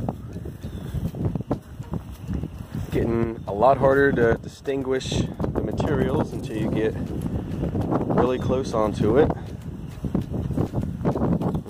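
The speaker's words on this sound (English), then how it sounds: "Sorry for the wind, hopefully you can hear me." Gusty outdoor wind buffets a handheld microphone in the Arizona dusk beside a compost pile, a constant low rumble and roar with bursts, under someone talking throughout.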